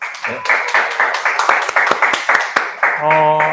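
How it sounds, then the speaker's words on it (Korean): A small group claps steadily for a few seconds at a book reading event with an author, the claps close and crisp, ending with a brief tone. "박수 한번 쳐볼까요?"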